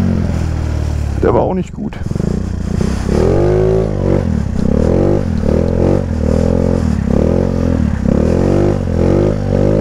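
A modified Rex 80cc scooter engine revs hard and close during wheelie attempts, its pitch surging and dropping in repeated waves with a brief sputter near the start, while someone talks over the loud, continuous drone.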